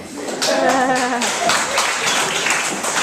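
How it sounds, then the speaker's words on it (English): An audience at a hypnotist and mentalist show at Speakeasy HQ claps for a volunteer, a dense burst of applause that stays loud and steady throughout, with some vocal murmurs early on. "A bigger clap for Paul"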